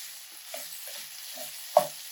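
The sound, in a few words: sausage with red and green bell peppers sautéing in pan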